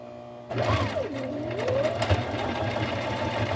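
A sewing machine with a durable universal needle stitches a two-tone collar. After a brief quiet moment its motor starts up and settles into a steady whirring hum with a rapid needle patter that carries on to the end.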